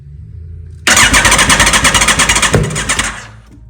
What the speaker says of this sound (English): that backfire was insane